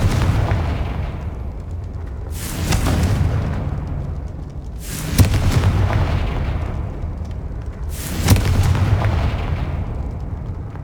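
Three loud booming explosions from the Confringo fire spell in the video game Hogwarts Legacy, each a sharp broadband blast with a rumbling tail, spaced roughly three seconds apart over a steady low game ambience.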